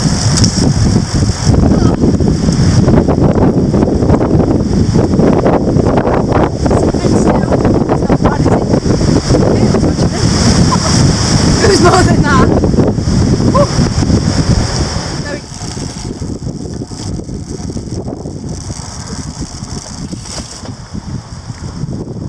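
Strong gusting wind buffets the microphone during a blustery 44-mile road bike ride, a loud continuous roar that eases somewhat near the end, with people talking over it at times.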